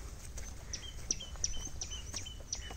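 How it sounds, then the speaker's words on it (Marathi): Small birds chirping in a bird sanctuary, a quiet series of evenly spaced high tweets repeating about every third of a second, faint and alone over soft ambient noise. "पक्ष्यांचा किलबिलाट सुरू आहे।"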